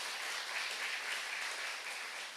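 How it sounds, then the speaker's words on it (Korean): A church congregation applauds together after a performance by three women, a dense and steady wash of many hands clapping that holds evenly for a couple of seconds. "다시 한번 박수 한번 보내주세요"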